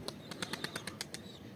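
A pigeon flapping its wings in flight, a quick run of about ten crisp, rhythmic wing claps fairly close by, then fading into quiet.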